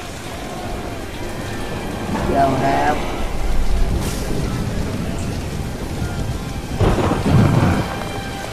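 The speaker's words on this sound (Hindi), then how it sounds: "काफी तेज हवाएं चल रही हैं। तूफान आने वाला है शायद।" A storm in the video game Prince of Persia: Warrior Within brings heavy rain hissing on surfaces and deep thunder rumbling in two loud rolls, with someone talking over it.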